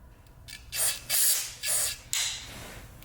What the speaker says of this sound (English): let me get some carb cleaner or brake cleaner. Spray them off.